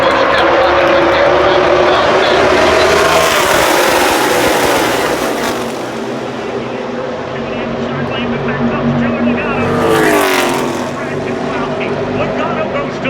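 NASCAR stock cars race at Talladega in a loud, continuous roar of engines as the pack passes, rising and falling, with a crowd and commentary mixed underneath.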